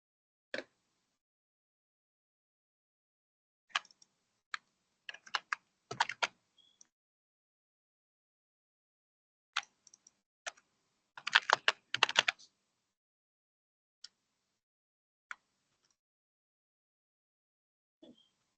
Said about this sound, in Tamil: நான் சில கலர் டைப் பண்றேன்.